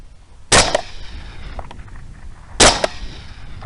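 Two sharp rifle shots fired while hunting at night with an IR Hunter MKIII 60 mm thermal weapon sight, about two seconds apart, loud and close, each with a short echoing tail over a quiet outdoor background.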